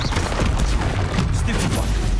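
Hogwarts Legacy Incendio fire spell being cast in combat, a loud, dense burst of roaring, crackling magic effects that fills the whole clip with steady booming energy and no pauses.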